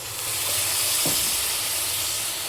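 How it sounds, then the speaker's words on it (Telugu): Water poured into a pan of frying chili-powder masala for paneer butter masala curry, giving a brief burst of sizzle and hiss partway through, rising over steady background steam noise. "ఇప్పుడు దీంట్లో కాస్త వాటర్ పోసుకోవాలి."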